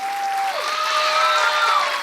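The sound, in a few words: audience applause for the music composer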